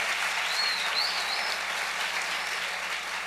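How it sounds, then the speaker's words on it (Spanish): Sustained applause from a church congregation, a steady dense wash of clapping that holds at an even level throughout, with no speech over it. "Denle un aplauso al Rey bendito."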